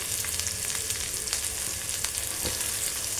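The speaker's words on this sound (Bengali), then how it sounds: "গোটা গোটা রসুন দিলাম পেঁয়াজ দিলাম" Whole garlic cloves and onion frying in a pan for a liver fry, giving a continuous, even sizzle with faint crackles, heard alone without any talking.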